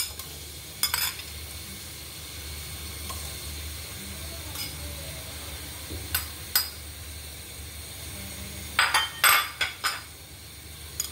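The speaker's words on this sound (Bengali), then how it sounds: "প্রথমে আমি তেলের মধ্যে রসুন ছেঁচা দিয়ে দিচ্ছি" Crushed garlic hits hot oil in a pan, giving a faint steady sizzle broken by sharp clinks and scrapes of a utensil stirring against the metal.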